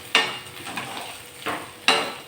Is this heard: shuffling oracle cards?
no